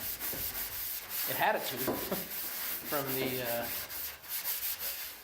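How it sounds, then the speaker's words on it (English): A red Scotch-Brite abrasive pad scrubs rusty, media-blasted metal in steady back-and-forth rubbing strokes, close and moderately quiet, while someone speaks briefly over it. "Scotch-Brite red. I think it's the equivalent of like a 400 to 600 grit sandpaper, kind of."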